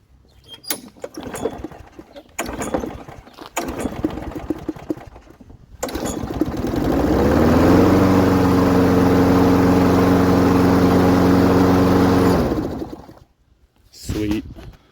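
A lawn mower engine starts after some clunking and handling noises, then runs steadily and loudly for several seconds before cutting off.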